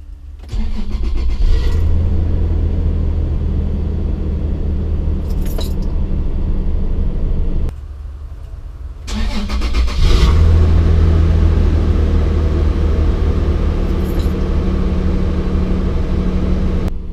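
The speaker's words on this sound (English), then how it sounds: "I'm going to start up the truck. We're going to hear how it sounds" Toyota 4Runner truck fitted with a new Y-pipe exhaust cranks to life with a jangle of keys, idles, cuts briefly, then restarts into a steady, close, loud rumble with a raised rev.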